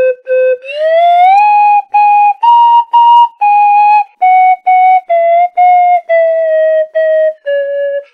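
A toy slide whistle plays a short tune of about a dozen separate notes, the first swooping upward and the rest held briefly at shifting pitches, clear and close with no talk.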